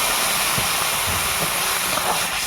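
Fried small fish, including punti, bele, leta and gule, simmering in a chilli curry in a pan, giving a steady, loud, close hiss and sizzle throughout with no talk.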